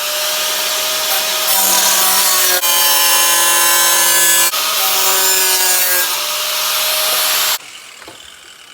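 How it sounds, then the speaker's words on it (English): A cutting wheel slices through a car body patch panel, a loud, steady grinding screech that runs without a break, its pitch dipping briefly at a few points, then stops abruptly near the end. "I'm gonna follow this radius the best that I can with the cutting wheel"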